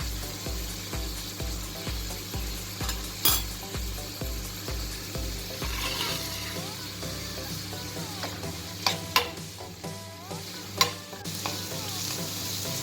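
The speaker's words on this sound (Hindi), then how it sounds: "अब सभी को अच्छे से मिक्स कर देंगे और 1 से 2 मिनट तक इसके पकने का इंतज़ार करेंगे।" Onions with chili powder, garam masala, amchur and turmeric sizzle steadily in a pan for an okra dish while a spoon scrapes and stirs in a quick regular rhythm, then slower stirs and a few clanks over the continuous frying.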